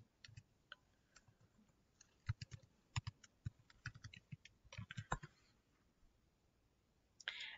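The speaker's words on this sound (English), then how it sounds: "So I'm just going to type in tinker.com." Typing on a computer keyboard while entering a website address, with irregular bursts of close key clicks separated by short pauses, no talking.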